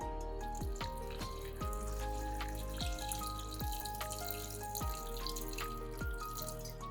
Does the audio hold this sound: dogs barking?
no